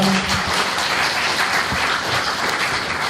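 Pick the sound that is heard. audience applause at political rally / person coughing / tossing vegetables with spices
audience applause at political rally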